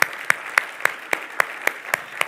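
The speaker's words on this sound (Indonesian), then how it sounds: "Berikan tepuk tangan saudara." A church congregation claps in unison, making a steady rhythm of sharp, evenly spaced claps, about three or four a second, with no talking.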